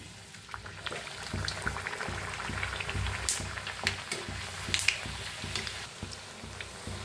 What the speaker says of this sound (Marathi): बघा मस्त अशा तळून घ्यायच्या दोन्ही साईडने